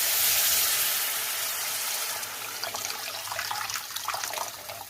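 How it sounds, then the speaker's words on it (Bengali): Hot water poured into a pan of well-fried fish curry masala for a Bengali tangra fish jhol, a loud rushing splash at first that settles into a softer bubbling trickle. "এবার এর মধ্যে আমি জল দিয়ে দেবো"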